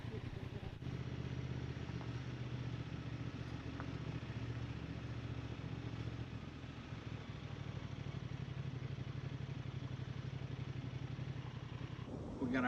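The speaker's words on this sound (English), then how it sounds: "We got our Honda Transalp on a backcountry road in West Virginia." A Honda Transalp motorcycle rides an unimproved backcountry road in West Virginia, its engine a steady low drone with some clatter, continuous and fairly close throughout.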